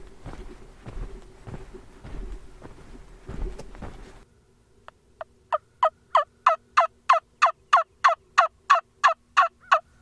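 Wild turkey gobbling during spring turkey hunting in Alabama woods: after a few seconds of muffled footsteps and rustling, a rapid run of about fifteen sharp, evenly spaced gobbling calls rings out clearly.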